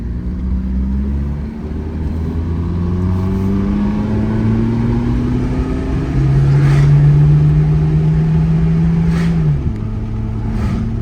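An abandoned blue Volvo 242 with badly worn tires accelerates hard on a test drive, its engine note climbing steadily through a gear and then dropping briefly at a slow upshift before pulling again, loud and close.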